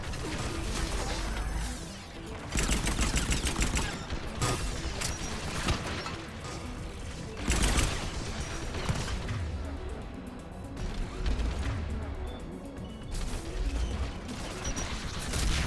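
Geth turrets in Mass Effect fire in dense, continuous bursts layered with crashes, whooshes and mechanical clatter, loud and busy throughout, with game voices mixed in.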